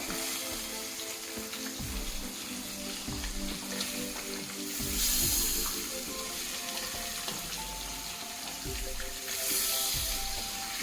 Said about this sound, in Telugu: ఫిష్ మెల్లగా తిరిగేసుకోవాలి. ఇది మంచి కలర్ ఉడకాలి ఫిష్ అనేది ఆయిల్లో.